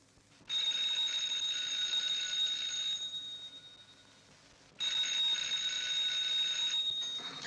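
An old-fashioned telephone bell rings in two long bursts with a pause between, clear and fairly close, in a quiet room with no talk.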